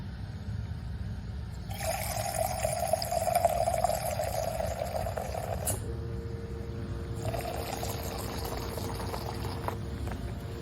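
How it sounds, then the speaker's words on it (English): Hot water pours from a Nuovo Simonelli Wave espresso machine into a milk pitcher, a steady hiss and gurgle running for several seconds in two bursts over a low machine hum. "we're gonna go ahead and fill it the rest of the way with some hot water"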